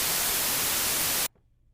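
A steady burst of loud, full-band white noise hisses evenly for just over a second, then cuts off abruptly into near silence.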